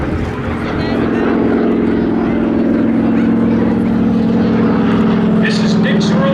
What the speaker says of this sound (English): Here comes that P-40.